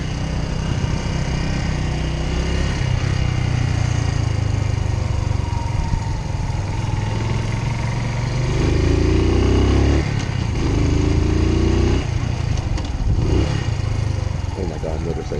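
During a motorcycle safety training course, a motorcycle engine revs and climbs through gears, then rev-matches back down, its droning pitch stepping up and dropping over continuous loud wind rush, with a rider talking over it.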